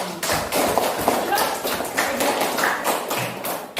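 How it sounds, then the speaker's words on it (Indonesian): Schoolchildren in an elementary classroom clap together in a steady, dense burst of small overlapping claps and taps, with young voices mixed in throughout. "tepuk tangan untuk kita semua"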